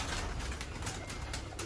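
Pigeons at a Sialkoti pigeon keeper's rooftop loft coo softly and steadily, a low murmuring drone under broadband background noise.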